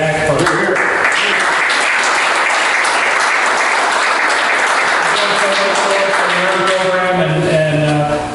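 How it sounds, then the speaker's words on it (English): Sustained applause from a room of people at a community meeting, a dense steady wash of clapping lasting several seconds with voices and chatter mixed in toward the end. "may I suggest a round of applause for Audrey and Jack"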